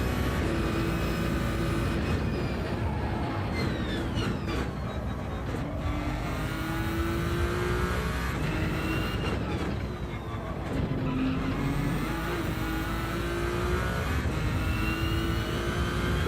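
An F1 car engine in a racing video game at the Nürburgring holds a high, steady whine, with pitch rising and dropping through gear changes across a continuous loud drone.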